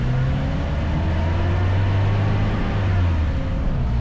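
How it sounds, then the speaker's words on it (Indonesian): An old Suzuki Carry minibus serving as a city angkot in Malang idles with a steady, smooth low engine hum, constant and close throughout with no voices. "suara mesin Suzuki Carry itu meskipun tua masih halus"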